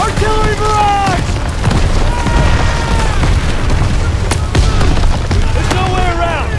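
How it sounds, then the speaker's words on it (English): Artillery barrage explosions in the Call of Duty WWII campaign boom continuously, with heavy blasts layered over game music and rumbling battlefield noise, while soldiers shout among the shelling. "Artillery barrage!"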